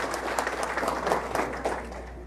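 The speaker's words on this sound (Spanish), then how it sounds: "Se ponen de pie, por favor. Los aplausos," Applause for newlyweds at a mass wedding ceremony, a steady wash of clapping from a standing crowd that holds level throughout, with a faint voice underneath.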